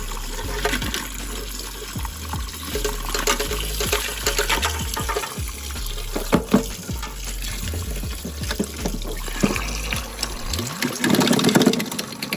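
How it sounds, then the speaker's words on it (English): Paint brushes used for acrylic painting are rinsed in a sink's rinse buckets, with steady running and splashing water, close and continuous, broken by sharp clinks and swishes of the brushes. "These brushes in the rinse buckets of the sink again."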